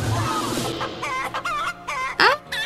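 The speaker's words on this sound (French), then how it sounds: "Sa musique des petits poulets." Chicken clucking and crowing from the Pokémon Legends: Arceus video game, a run of short bright clucks and squawks rising to a loud crow-like call near the end, with game music underneath.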